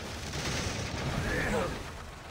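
Cannon fire in Assassin's Creed 3 sounds as a dense, rumbling volley of booms that swells and fades over a couple of seconds, loud and close, with game noise mixed underneath.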